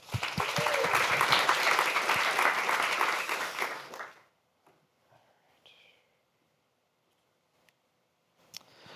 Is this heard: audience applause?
yes